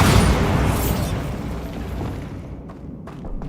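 A loud, booming blast from the Bombarda spell in the video game Hogwarts Legacy erupts at once, then rumbles and fades gradually over a few seconds.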